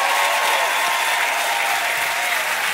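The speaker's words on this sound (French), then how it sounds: "est-ce qu'on peut faire un tonnerre d'applaudissements?" A thunderous round of applause from a worship audience, loud continuous clapping throughout with no talking over it.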